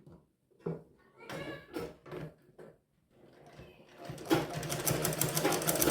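A sewing machine stitches a blouse. Short voice-like sounds and a few knocks come first, then the machine's dense, fast whirring runs steadily to the end.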